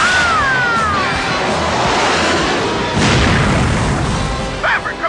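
A missile explosion in the movie Top Gun, a sustained roaring blast and rumble filling the scene, with a brief whistling tone at the start and a short burst near the end.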